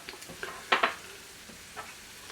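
Garlic and shallots sizzle in hot olive oil for chicken Parmesan, a soft frying hiss with a few brief utensil scrapes and one louder pair of stirring clatters near the middle.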